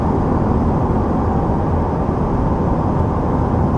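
Steady interior cabin noise in a 2020 Cadillac CT4 or CT5 cruising at 60 mph with no sunroof: a constant low road and engine rumble with a light wind hiss, loud and unbroken, with no voices.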